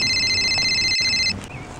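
A mobile phone rings with a steady, bright electronic tone that plays nearby and then cuts off abruptly, with a faint noise bed and no talking.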